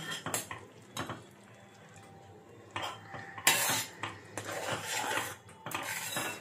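A spoon stirs and scrapes inside a pot of makhana kheer with cardamom powder, sharp metallic clinks arriving in bursts with quieter scraping between them, close and alone.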